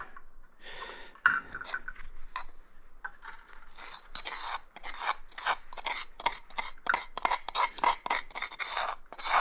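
Wild violet sugar rubbed and pressed through a metal strainer, giving a dry gritty rasping scrape in repeated close strokes with brief pauses, no talking.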